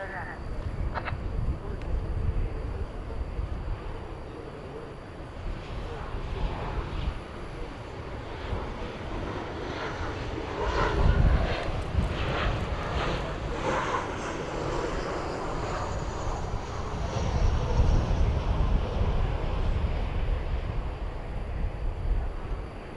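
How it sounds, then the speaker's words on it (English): A Boeing 737-800 jet airliner passes at night at an airport, a steady distant engine roar swelling twice, heard under occasional talk. "737-800 from Richmond, Virginia, I do believe"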